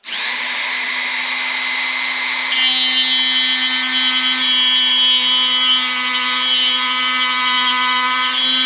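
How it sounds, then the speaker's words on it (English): A Dremel rotary tool fitted with a carving burr grinds a groove into a wooden guitar neck at the nut line of a cigar box guitar, a steady, loud high-pitched whine that holds constant and rises slightly in pitch partway through. "I'm just going to take a carving burr on a Dremel, and I'm just going to make a little groove right here"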